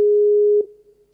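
A telephone ringing tone on the line during a live radio phone-in call: one steady, loud tone that stops abruptly after about half a second, leaving a faint fading trace.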